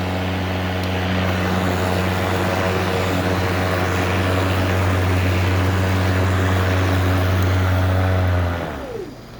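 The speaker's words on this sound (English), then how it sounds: "what you do to start it is pull this handle back here, hit this button, and that's running right there" A Ryobi 40-volt brushless self-propelled lawnmower runs with a loud, steady electric motor hum and whine close by. Near the end the hum winds down and stops, with no talk over it.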